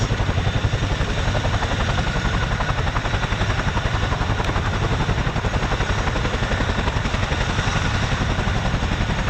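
A military helicopter flying back toward RAF Odiham from an air weapons range, its steady rotor chop and engine roar loud and continuous throughout with no voices.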